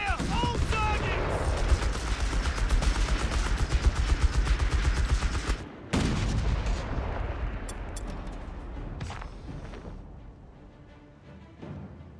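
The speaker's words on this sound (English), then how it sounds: "Open fire! All targets!" Gunfire in the Company of Heroes 3 real-time strategy game, dense rapid volleys and machine-gun bursts with heavy thuds for about six seconds, then scattered, fainter shots as the fight eases, with brief voice lines.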